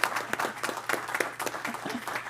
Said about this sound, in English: I think we can give you another round of applause.